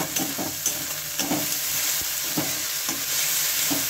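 Whole green chilies frying in hot oil for a dried fish curry, a steady bright sizzle broken by regular scraping stirs, close and loud, with no talking.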